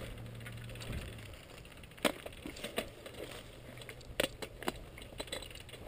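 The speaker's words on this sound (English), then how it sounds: "Clicking my pedals in." Clipless bicycle pedals on a mountain bike click in on a trail, with a few sharp, separate clicks scattered over a soft rustling background.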